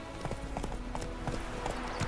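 A horse gallops in The Witcher 3: Wild Hunt, its hooves clattering in a quick, steady clip-clop rhythm over a low, constant background.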